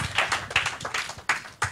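A church congregation claps as an offering of praise: a handful of loud, sharp claps in an uneven rhythm, close by and with no voices over them.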